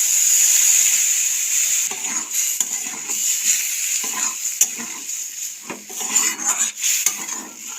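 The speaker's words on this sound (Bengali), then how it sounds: "সবজিগুলো খুব ভালোভাবে কষিয়ে নিয়েছি এখন দিয়ে দিচ্ছি সেদ্ধ করে রাখা ডালটা" A utensil stirs sautéed vegetables with added boiled lentils in a pan, giving repeated scraping clinks over a constant sizzle.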